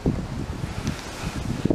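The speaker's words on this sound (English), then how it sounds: "It's very windy." Strong wind gusts through leaves just before a storm, a rustling, buffeting roar with a few louder surges, close to the microphone and heard alone.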